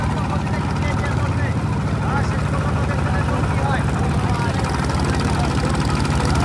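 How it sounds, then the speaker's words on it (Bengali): Hundreds of boats racing behind a lead boat in a boat race final at Baghabari river port. A steady, dense engine drone fills the whole clip, with voices mixed in. "একটা নৌকার পিছনে কিন্তু একবারে শত শত নৌকা ছুটে চলেছে"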